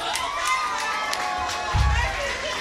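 Crowd cheering and clapping at a Fiestas Patrias celebration, a loud burst of noisy applause and shouts swelling near the end over a steady hum of crowd noise.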